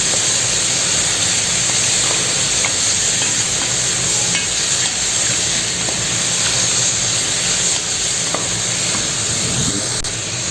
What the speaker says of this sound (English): now give it a nice stir